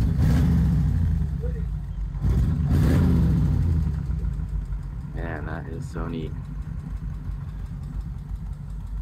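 A 1939 Ford Deluxe with a dressed flathead V8 idles with a steady low rumble and a swell of revving early on, while someone talks over it close by.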